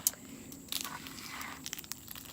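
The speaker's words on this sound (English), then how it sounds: "Hear that crunch?" Crunchy slime being squeezed and worked by hand, giving faint, close crackling and crunching bursts in irregular clusters, quiet throughout.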